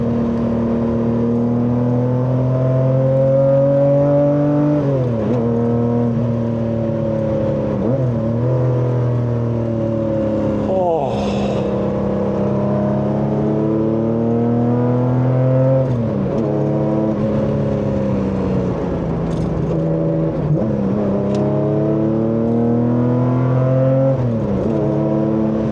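A Singer Classic Porsche with a six-cylinder engine revs hard while driving. The loud, rising engine note climbs repeatedly and drops with each gear change, continuous and close throughout.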